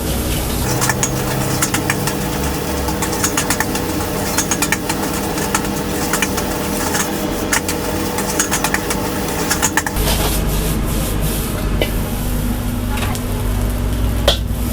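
Fried rice with egg, red chili and roasted chili paste oil is stir-fried in a wok on a busy restaurant burner. A loud, steady roar carries constant sizzling and scraping, with no talk.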